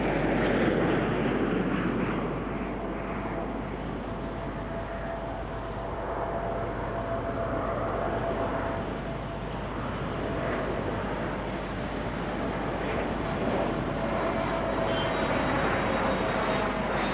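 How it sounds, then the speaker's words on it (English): De Havilland Comet jet airliner flying over Heathrow, a sustained distant jet roar with a faint whine, rising and falling gently as it passes, no talk. "Comet passes over Heathrow with London in the background"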